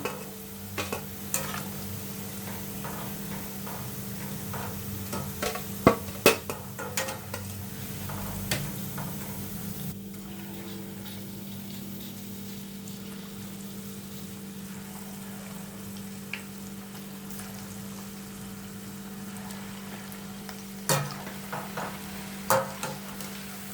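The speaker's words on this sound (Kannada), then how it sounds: "ಈಗ ಇದೇ ಥರ ಎಲ್ಲನೂ ಫ್ರೈ ಮಾಡಿ ತಗೊಂಬಿಡ್ತೀನಿ ನಾನು" Cauliflower pieces frying in oil, a continuous close sizzle over a steady low stove hum, broken by occasional sharp clinks and scrapes of stirring, with no voices.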